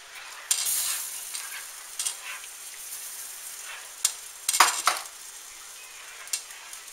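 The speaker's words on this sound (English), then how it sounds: "And what you do is just stir the potatoes in." Potatoes are stirred into a hot pan as part of a meat loaf dinner, giving a steady close sizzle broken by scraping spoon and clinking pan knocks, with a cluster of sharper clatters near the end.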